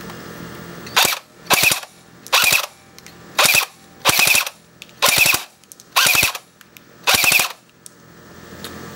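An AGM Matrix MP40 airsoft gun fires full auto outdoors at a tree stump about 80 to 85 feet away, in eight short rattling bursts at a steady pace, loud and close.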